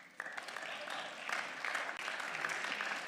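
Applause in the Berlin parliament during a debate, a faint but steady patter of many hands clapping that starts abruptly and continues with a brief break, somewhat distant.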